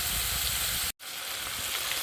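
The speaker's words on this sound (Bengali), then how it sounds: "চিংড়ি মাছগুলো ভেজে নিচ্ছি" Shrimp frying in a pan, a soft steady sizzle with a brief cut near the middle, fairly faint and without voices.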